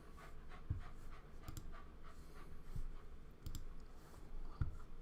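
A dog pants quietly and rhythmically close by, with faint clicking sounds like claws tapping on a hard floor mixed in under low room noise.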